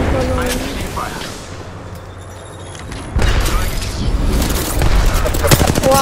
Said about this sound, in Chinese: 哇，这个我还被炸了一下。